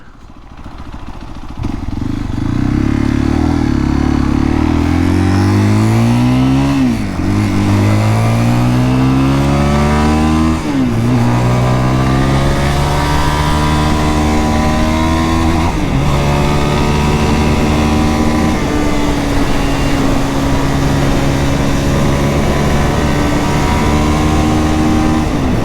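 A 2023 Zontes GK 350 motorcycle engine runs steadily while riding, loud and close, with repeated rising and falling revs as the rider shifts through gears.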